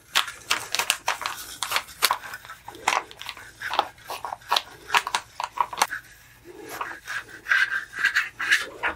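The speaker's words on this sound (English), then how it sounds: "work this down with the scraper and just move down the sign" A scraper is worked over vinyl and transfer tape on a wooden sign, making close, repeated scratchy rubbing strokes in uneven bursts with brief pauses between passes.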